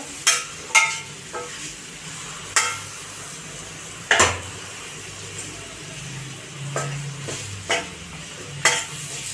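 Jaggery and amla mixture in a pan on low gas, with soft bubbling under a series of sharp spoon scrapes and clinks against the pan, spaced irregularly and heard close.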